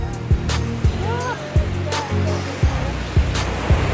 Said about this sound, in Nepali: So we are near the fall.